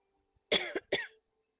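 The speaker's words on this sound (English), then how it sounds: "as I cough" Two quick, close coughs, the second shorter, in an otherwise quiet room.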